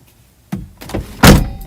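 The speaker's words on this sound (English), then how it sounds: "I just closed the car door." A car door shuts with a solid, close thunk, preceded by a couple of softer clicks and rustles as it swings closed, with no talking.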